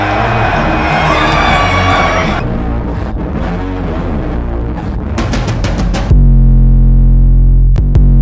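A basketball crowd at a boys' varsity game roars and whoops loudly over booming hype music, the cheering dense and sustained, then cut off by a heavy bass-driven musical passage near the end.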